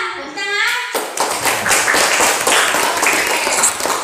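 Classroom of students clapping their hands together in a lively burst right after a teacher's voice, the quick overlapping claps filling the room for several seconds.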